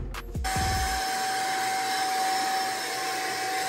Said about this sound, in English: Can't forget the vacuum while we're in here.